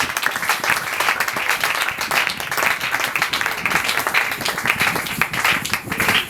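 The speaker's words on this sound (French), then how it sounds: "on acclame très fort pour le bénissage" Sustained, dense applause from an audience at an evangelical seminar, steady and loud throughout with no pause.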